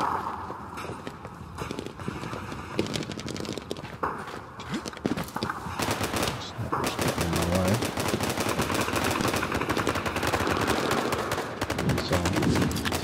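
Rapid gunfire in the Day of Wars video game, including M1 Springfield rifle shots, cracks dense and continuous in a control-point battle, layered with footsteps and other battlefield noise.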